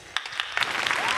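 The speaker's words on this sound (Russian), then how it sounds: "эти аплодисменты для нее" Audience applause at a music-contest final for a second-place winner: dense, steady clapping that swells after a moment and keeps going, with some faint talk mixed in.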